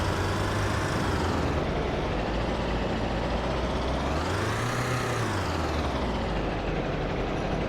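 A Jeep Willys engine drives in a video game, a continuous loud engine drone whose pitch rises and falls as it revs, with no talk.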